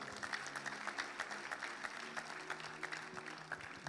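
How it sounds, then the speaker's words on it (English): Rhythmic audience clapping at a church service, steady beats repeating several times per second, fairly faint and distant with little else heard. "If you are clapping, clap well."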